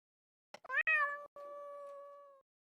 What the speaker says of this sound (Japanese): また猫の鳴き声が。